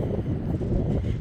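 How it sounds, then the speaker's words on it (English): Wind blows steadily across an outdoor spot where deer roam, a continuous low rumbling buffet against the microphone with no voices. "It's so windy here"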